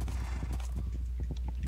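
A horse in a survival video game clip-clops along in quick, steady hoofbeats, loud and close with a constant low hum beneath.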